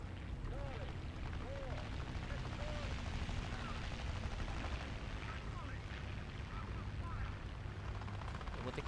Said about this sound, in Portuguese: Joguei artilharia lá.